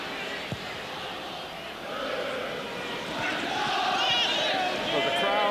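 Restless crowd murmur rising and swelling at Villa Park during the 1992-93 Aston Villa vs Manchester City football match, with a commentator talking over the broad stadium roar.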